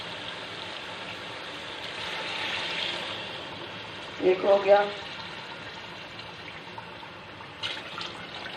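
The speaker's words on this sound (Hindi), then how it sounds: "4 बोल पानी के डालूँगी।" Water is poured from a bowl into rice for a kofta pulao in a home kitchen, a short splashing pour that rises briefly under a voice as she counts.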